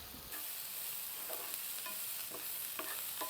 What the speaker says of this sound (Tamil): வெங்காயம் வதங்கி கொண்டு இருக்குது.